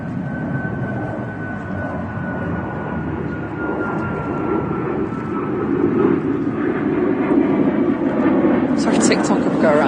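A passenger aircraft passes overhead at Manchester Airport, a steady broad engine roar that swells louder toward the end, with people talking nearby throughout.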